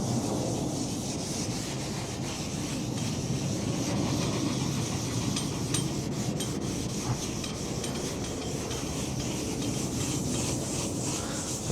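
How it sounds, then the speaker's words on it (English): Sandpaper is rubbed by hand across an old van wing in a continuous, even rasping scrape that stays close and loud for nearly twelve seconds, with no one speaking. "And you can actually hear the sandpaper"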